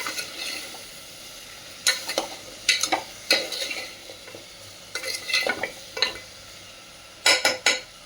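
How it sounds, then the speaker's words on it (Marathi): Masala being stirred into mutton paya in a pan, a spoon scraping in short bursts between quiet pauses, with a soft sizzle underneath and occasional clinks of utensil on metal, close and fairly loud. "त्याला असं मस्तपैकी मिक्स करून घ्यायचं, म्हणजे पूर्ण मसाला मिक्स होऊन जाईल"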